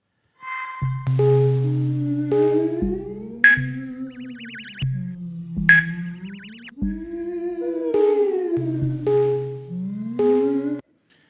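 A generative sequencer on an iPad synth app plays synthesizer tones in a looping sequence, with sliding pitches, bass notes and bright blips whose timbres keep changing as sounds are swapped, no voices.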